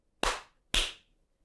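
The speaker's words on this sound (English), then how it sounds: "Can we clap the syllables of hello?" Two sharp hand claps about half a second apart, crisp and close, each with a short ringing decay, clapping out the two syllables of hello in a quiet room.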